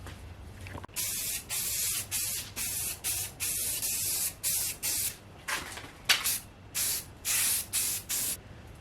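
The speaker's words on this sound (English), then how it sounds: "I want to spray the whole thing all at once." Primer sprayed from an aerosol can onto a glued and sanded prop sword, heard as a run of about a dozen loud, hissing bursts of a second or so each, separated by short pauses.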